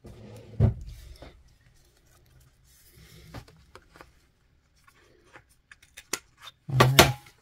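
Paper corner being rounded off with scissors for a junk journal, a few crisp snips at the start and end with scattered small handling taps between, close and fairly quiet.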